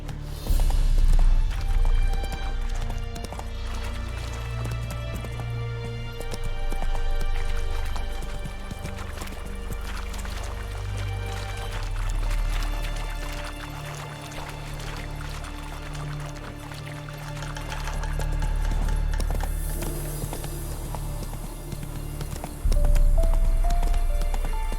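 Hooves of Roach, a horse in The Witcher game, clip-clop at a gallop, steady and rhythmic beneath a loud, swelling orchestral score, with a brief whinny-like sound near the end.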